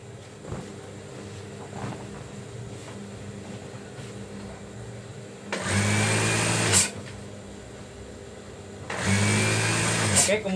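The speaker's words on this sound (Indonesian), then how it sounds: "Dan kita ini menjahit dari pinggiran sebelah kanan." A sewing machine stitches along the edge of a quilt cover in two loud, steady close bursts, each lasting a second or more, separated by quieter handling and room noise.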